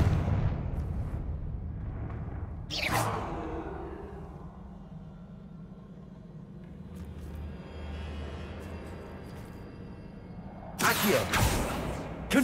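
Confringo fire spell blasts in Hogwarts Legacy: two loud, booming explosions several seconds apart, each bursting sharply and then rumbling away, over a low, steady game background.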